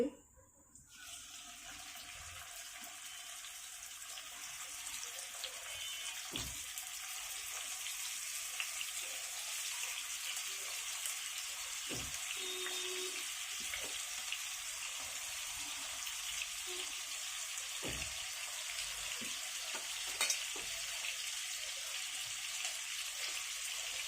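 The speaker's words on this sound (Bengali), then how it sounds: "তৈলটাও গরম হয়ে আসছে এক এক করে ভিতরে মাছগুলো দিয়ে দিচ্ছি" Marinated poa fish fries in hot oil with a constant soft hiss and occasional faint pops and crackles, the sizzle settling in after a brief quiet start and staying fairly low throughout.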